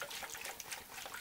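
Water trickling gently from a can onto seed trays of freshly sown celery and dusty miller, a soft continuous patter, close but faint, with no voices.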